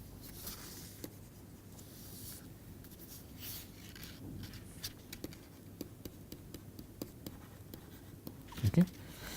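Chalk or marker writing an equation on a board in a lecture hall, a faint scratchy stroke pattern with soft taps, quiet and close, with no clear talk over it.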